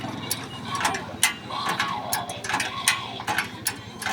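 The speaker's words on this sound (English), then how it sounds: "Push that up, and then start jacking." Hi-Lift jack being pumped up on a 4x4 vehicle, giving repeated metallic ratchet clicks in a steady rhythm, close by, with faint voices in the background.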